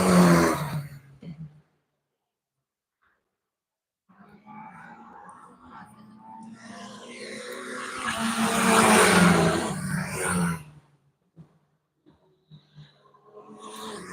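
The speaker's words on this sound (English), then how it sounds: "Just letting you enjoy a bit of car noise." Race cars run past on a circuit during pre-season testing of the 2025 GB3 series, engine noise swelling to a loud peak then fading, with brief speech before and quiet gaps around it.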